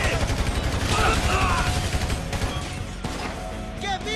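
Grand Theft Auto 5 gameplay gunfire: rapid bursts of shots crackle and rattle in a loud, dense barrage, with brief impact noises and voices under the firing.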